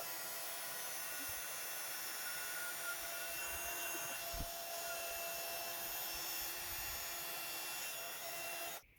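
A heat embossing tool blows steadily from underneath a craft piece with gold embossing powder. The blower gives a constant airy whir throughout, close and even, and cuts off at the very end.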